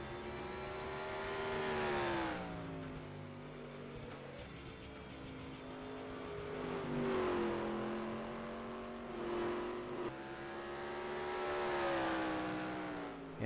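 Race cars lapping the Monroe oval during a night race, their engines droning loudly and continuously in overlapping waves that rise and fall as the pack circles past, with no talk over them.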